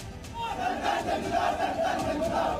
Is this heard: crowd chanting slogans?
yes